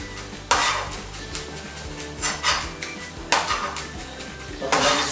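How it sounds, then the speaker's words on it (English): Fresh garlic is chopped for mini sausage rolls, a knife knocking on a board in irregular clattering strokes amid dishware clinks, close and fairly loud. "you love to chop your garlic"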